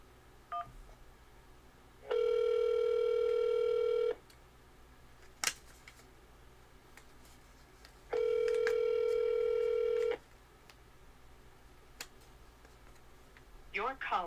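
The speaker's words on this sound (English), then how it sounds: "we'll give Mike a call" A telephone call rings out with two long, steady ringback tones separated by a pause, over faint background hiss and a few scattered clicks.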